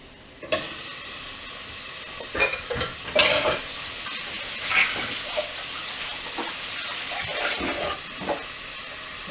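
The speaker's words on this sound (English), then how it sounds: "I'm going to saute this," Ground pork and beef hit a hot pot on the stovetop and sauté without oil, giving a steady sizzle with scraping stir strokes and occasional louder clatters.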